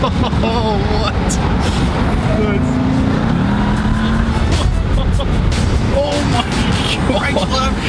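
A Jeep Trackhawk drives hard, its engine roaring loud and steady throughout with tire noise underneath, while people in the car talk and exclaim over it.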